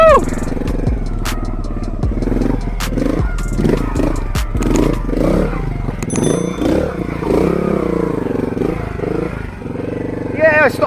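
A Honda Montesa Cota trials motorcycle picks its way over rocks, the engine blipping and revving in uneven bursts with clattering knocks and scrapes, while a rider shouts and talks throughout.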